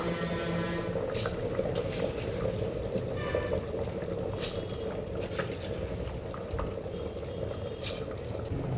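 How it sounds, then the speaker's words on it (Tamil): Rice tipped into a pot of water at a rolling boil for Ambur-style chicken biryani, a steady close bubbling hiss with brief splashy pouring bursts and no talk. "இப்போ தண்ணி நல்லா கொதிச்சிருச்சு நம்ம எடுத்து வச்சுருந்த அரிசியை வந்து நம்ம இதோட சேர்த்திக்கலாம்"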